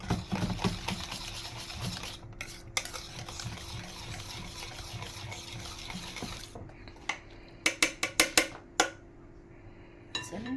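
Banana bread batter being mixed with a spatula in a bowl, with soft scraping and stirring followed by a cluster of sharp clinks and taps against the bowl near the end.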